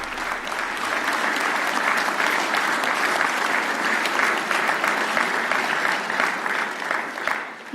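A large crowd applauds Alabama Governor Kay Ivey as she is welcomed for her 2025 State of the State address, a loud, dense, sustained ovation that carries evenly throughout and tapers slightly at the end.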